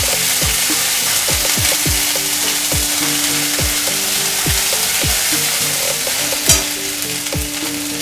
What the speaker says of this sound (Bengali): এটা একটু ভেজে নেব আদাটা